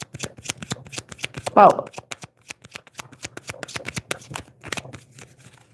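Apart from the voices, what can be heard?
shuffling tarot cards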